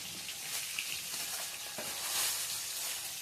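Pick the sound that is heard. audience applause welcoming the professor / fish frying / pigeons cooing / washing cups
fish frying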